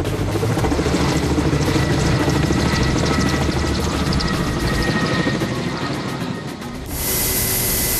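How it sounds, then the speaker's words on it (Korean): A Russian-made heavy helicopter hovers low while scooping water for a mountain wildfire in Korea. Its loud, steady rotor thumping and roaring engine fill the whole stretch, turning to a brighter hiss near the end. "고난이도 비행 능력이 요구되는 헬기의 담수 과정."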